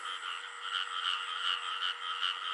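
Banded bullfrogs croak in a rice field at night, a continuous throbbing chorus that pulses in steady waves, fairly close and with no voices.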